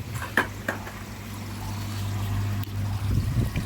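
Water is poured from a bucket, starting with a few splashes and settling into a steady trickling stream for a few seconds, close by.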